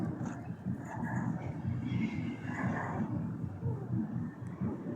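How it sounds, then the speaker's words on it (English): Tram passing by on the old Castlefield viaduct, a moderate rumbling rail roll with faint squeals and hiss, steady and fairly close for several seconds. "Again, you've got a tram going there."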